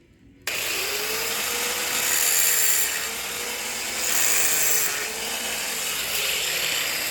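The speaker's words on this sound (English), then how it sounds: "doing the easy work, sitting down and grinding up the staples" A power grinder chews through staples left in reclaimed maple flooring, a loud, continuous, harsh whir close by that swells and eases in waves as the tool bears down, with no talking.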